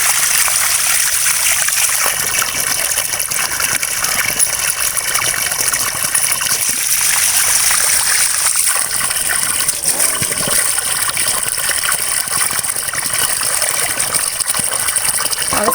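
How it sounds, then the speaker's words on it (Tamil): Tap water gushes steadily and close by as mukkirattai greens are rinsed under it for a kidney-friendly lentil dish, a continuous loud splashing stream with no talk. "இப்போ வாங்க நம்ம அந்த கீரையை நம்ம அலசி எடுத்துக்கலாம்"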